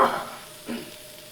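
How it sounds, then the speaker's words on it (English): Garlic and seasoning sizzling in a soup pot for broccoli cheese soup, a brief soft hiss that fades, with a light stir partway through. "You can hear it starting to sizzle up a little bit"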